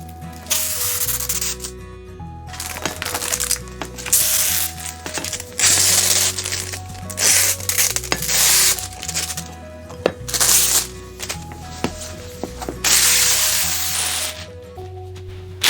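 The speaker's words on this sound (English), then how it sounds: "we're going to start spraying it down with some soapy water solution and apply it to the window" A spray bottle squirts soapy water solution onto a window for tinting, giving repeated bursts of hissing spray in an irregular rhythm alongside rubbing and crinkling handling noises.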